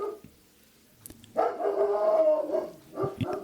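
Dogs bark and howl in a drawn-out, wavering burst after a quiet start, fairly close and moderately loud, with a few sharper yips toward the end.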